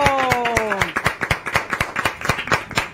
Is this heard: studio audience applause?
yes